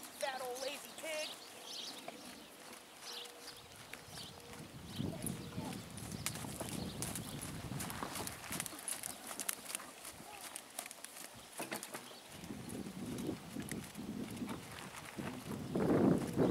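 Horse hooves clip-clop on the ground during a riding lesson, irregular thudding steps at moderate distance, with people talking over them and birds calling in the background.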